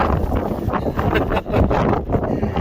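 Steady, loud wind buffets the microphone at the Lands End Lookout on the coast, a constant rumbling roar with gusty fluctuations and no voices.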